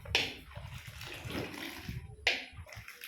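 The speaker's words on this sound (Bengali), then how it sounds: "নেড়ে নেড়ে ঠান্ডা করতে হবে।" Hot milk stirred continuously in a pot to cool it for homemade yogurt, soft liquid swirling with two sharper splashy strokes near the start and end.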